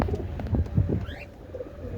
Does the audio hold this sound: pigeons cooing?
yes